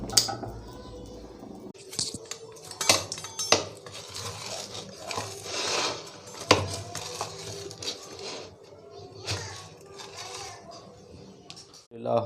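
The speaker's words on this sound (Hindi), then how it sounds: "हम इसे प्लेट में निकाल लेते हैं।" A cooked aloo paratha lifted off a hot pan onto a plate in a home kitchen, with metal utensil scrapes, clinks and pan knocks spread across the span under intermittent background noise.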